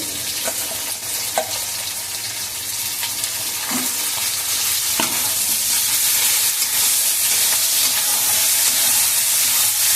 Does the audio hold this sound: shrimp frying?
yes